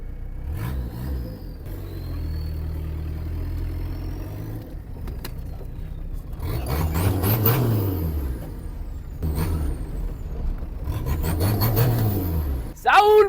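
A small Citroën C15 car engine hums and revs in rising and falling swells, steady and nearby, with rattling and road rumble throughout.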